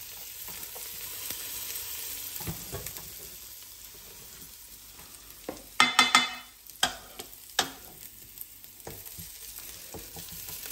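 Garlic sautéing in a pan for couscous with vegetables: a steady soft sizzle with a burst of louder crackling and spoon scraping mid-way, close and without voices.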